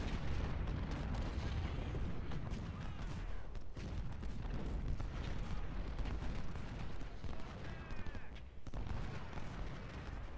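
Cannon and artillery fire from the Ultimate General: Civil War video game, Chickamauga battle: a dense, continuous rumble of booms and gunfire, loud throughout with no clear gaps, no speech.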